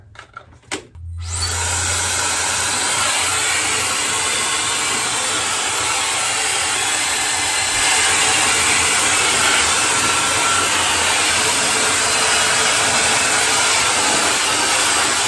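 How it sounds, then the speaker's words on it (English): A Dyson Airwrap-style hot air brush blow drying hair, switched on after a few handling clicks and then roaring in a loud, steady, high-pitched whoosh of air that holds for about fourteen seconds. "So this product is extremely powerful. I can already tell it's blow drying my hair super quick"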